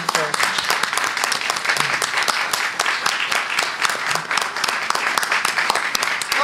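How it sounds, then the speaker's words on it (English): A church congregation applauds children standing before them at a Sunday Mass, dense steady clapping from many hands filling the room for several seconds. "Can we give them a big applause for what they've done for us?"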